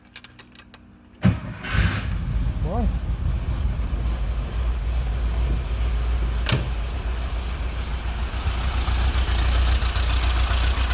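A car engine cranks and catches after a brief clatter, then settles into a steady, low idle that rumbles on; someone briefly exclaims early on.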